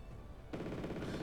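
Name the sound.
gunfire hitting Spetsnaz infantry in Wargame Red Dragon video game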